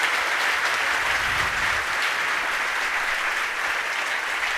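An audience at a Jain monk's religious discourse gathering breaks into sustained, loud applause. Many hands clap in a dense, even roar that holds steady for several seconds without talk over it.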